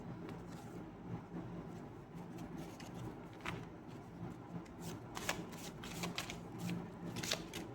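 Tarot cards fall and are shuffled close by, giving a steady papery riffling with soft flicks and slaps throughout at low volume, with no talking.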